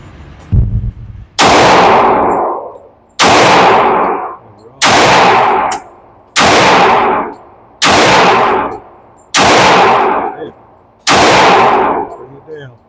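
Seven loud, close pistol shots from a Glock G30 firing .45 ACP rounds, evenly spaced about a second and a half apart, each a sharp crack with a short ringing decay.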